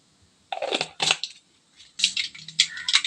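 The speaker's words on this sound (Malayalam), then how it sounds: "എണ്ണ ചൂടായതിന് ശേഷം കടുക് ഇടണം" Mustard seeds popping in hot coconut or gingelly oil for a pickle, a few irregular bursts of sharp crackling close by with short quiet gaps between, no talk.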